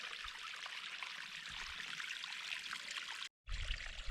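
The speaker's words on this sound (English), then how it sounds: "Slot canyon to waterfall." Small waterfall at the end of a slot canyon, a steady broadband splash and rush of falling water, fairly close and continuous, with a brief gap near the end before resuming.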